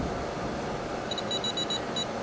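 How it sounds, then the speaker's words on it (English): A handheld electronic healing device placed on an acupoint near the face gives a rapid series of short high beeps about six in a row, then one more, over a steady background hiss. "So it just beeps a little bit, okay?"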